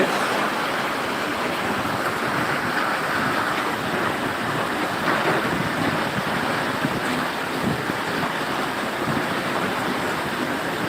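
Heavy rain pours down at Chandaikona in Sirajganj after a long heatwave. It makes a dense, unbroken roar with a gusty, wind-like hiss at a steady loud level, and no voices can be heard.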